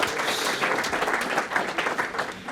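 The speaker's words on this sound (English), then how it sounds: "A round of applause for all of our past Winslow Award winners" An audience at an awards dinner applauds past Winslow Award winners, with dense, steady clapping filling the room throughout and no voices rising above it.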